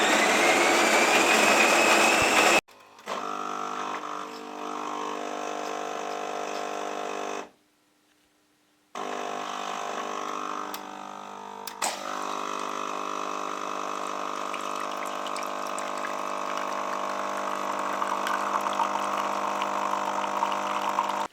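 A Nivona CR 740 coffee machine, under repair for leaking hot water into the drip tray, pumps and brews coffee with a steady droning hum that cuts off briefly partway and then resumes, loud and close, with no voices.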